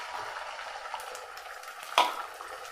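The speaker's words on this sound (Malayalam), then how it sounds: "നമ്മുടെ മുട്ട ഒന്ന് ചിക്കി എടുക്കാതെ ചെറിയ പീസുകളാക്കിയിട്ട് എടുക്കാം" Beaten egg frying in coconut oil in a pan, a soft steady sizzle close by with one brief sharp scrape of a utensil near the end.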